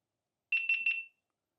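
A GoPro action camera powering on: three quick high-pitched electronic beeps in a row, close and clear, followed by silence.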